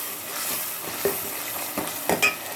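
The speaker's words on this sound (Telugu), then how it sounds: "కొంచెం అల్లం వెల్లుల్లి పేస్ట్ 2 స్పూన్లు వేసాను. ఇది కూడా కొంచెం కలిపేసి చికెన్ వేసేసుకుందాం." Ginger garlic paste stirred in a frying pan over a steady sizzle, with several scraping strokes of the spoon against the pan, close and fairly loud.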